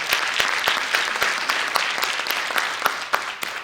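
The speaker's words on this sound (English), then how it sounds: "So let's give everybody a round of applause." Audience at a live stage show applauds steadily, dense clapping with a few sharp individual claps standing out near the listener, continuous for several seconds with no talk.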